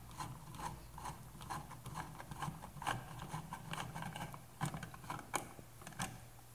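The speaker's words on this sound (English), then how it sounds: "then you remove the screws holding in your switch" A screwdriver works screws out of a wall switch, giving steady soft scraping and ratcheting clicks that are close but faint.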